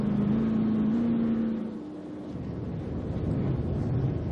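NASCAR race cars at the 2007 Toyota All Star Showdown spinning out in a multi-car crash, a loud sustained engine roar with a high whining tone that fades briefly before the rumble builds again.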